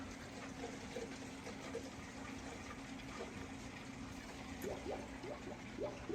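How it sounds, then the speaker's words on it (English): Water gurgles and bubbles steadily in the sump filter of a 300-gallon discus aquarium, with a low pump hum beneath and soft bursts of bubbling in quiet surroundings. "You will start to hear gurgling and bubbling as the system finds its equilibrium."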